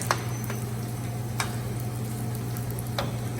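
An egg fries with carrots, onion and celery in a pan for fried rice, giving a continuous close sizzle broken by a few sharp spatula taps and scrapes.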